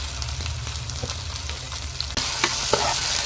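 Tomatoes fry and soften in a pan for a Tamil mutton bone curry, a steady close sizzle with occasional stirring clicks, louder after a sudden jump partway through.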